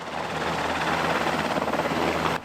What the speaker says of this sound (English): a U.S. Army Black Hawk helicopter landed at Southeast High School